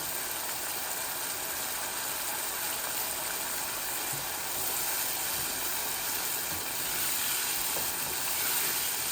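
Duck eggs cook dry in a pot with no water, giving a steady, even sizzling hiss that carries on throughout without talk.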